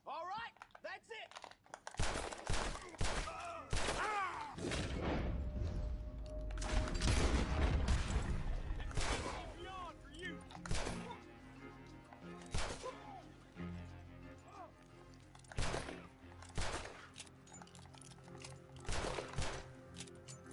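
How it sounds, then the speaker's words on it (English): Gunshots crack in Red Dead Redemption 2, a series of sharp, separated reports scattered among game sounds and other noises, with people talking throughout. "That gun sounds kind of weak."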